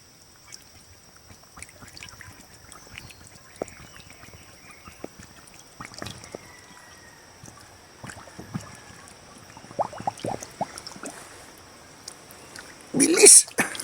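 Water is drawn from a mountain well and poured into a container, heard as faint splashes and trickles amid scattered knocks, with a voice speaking now and then and a louder splash near the end.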